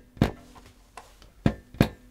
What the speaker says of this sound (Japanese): これが何かというと、ゴーストノートというものになります。